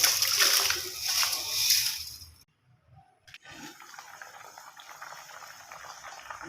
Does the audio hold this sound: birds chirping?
no